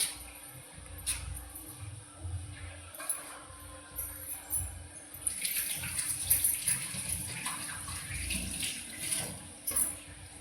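Water runs from a tap while something is washed during a home evening cooking session, a steady hiss with splashing bursts that swell louder toward the second half, close by with no talk.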